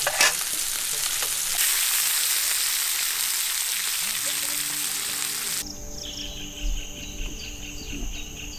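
Fish fried skin side down in a pan gives a steady, close sizzle that fills the first five and a half seconds, then gives way to a quieter mix of crackle and background noise.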